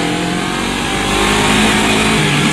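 A 2019 Honda CBR 250 RR motorcycle being ridden, its engine droning loud and close with a steady, slightly rising pitch and no break throughout.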